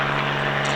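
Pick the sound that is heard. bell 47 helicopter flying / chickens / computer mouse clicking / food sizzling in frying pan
bell 47 helicopter flying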